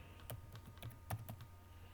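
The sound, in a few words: typing on a computer keyboard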